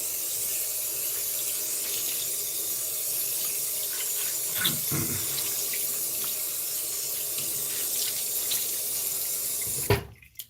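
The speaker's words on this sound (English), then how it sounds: "Gonna throw on the cool water here real quick." Cool water runs steadily from a tap into a sink, a continuous close hiss that ends with a sharp clunk as it is shut off.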